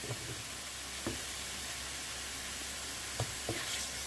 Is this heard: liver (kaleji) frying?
yes